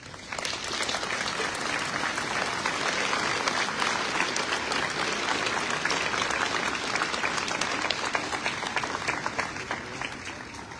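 Sustained, dense applause from a crowd at an Armistice Day commemoration ceremony honouring youths and Paralympic champions, steady and even from start to finish with no break.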